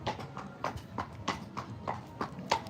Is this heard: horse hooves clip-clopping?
yes